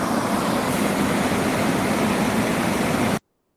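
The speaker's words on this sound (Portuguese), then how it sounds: "É um motor elétrico, né? Normal," An ordinary electric motor runs steadily in a vibration analysis demonstration, a loud constant broadband hum with no variation for about three seconds before cutting off abruptly.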